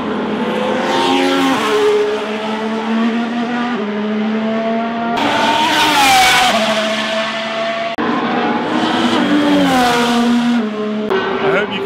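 Race cars at the Monaco Grand Prix scream past close by, their engines rising and falling in pitch as they pass one after another, loud throughout, with gear shifts and sudden cuts.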